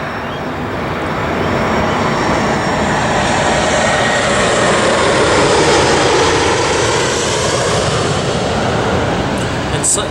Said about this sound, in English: there's a plane coming, so it'll get loud